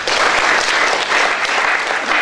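A church congregation at a Sunday service breaks into loud, continuous applause, a dense wash of clapping hands that holds steady throughout with no speech over it.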